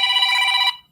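A telephone giving a single short electronic ring, a bright buzzing tone lasting under a second before cutting off.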